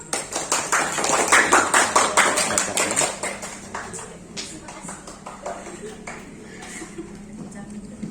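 Audience at a school quiz final clapping for a team, a steady burst of close claps that thins and fades over several seconds while voices talk underneath.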